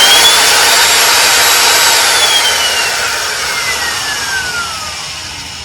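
Hougen magnetic mount drill press motor running: a loud, steady high whine with a falling pitch sweep as the motor changes speed, close and continuous, with no speech.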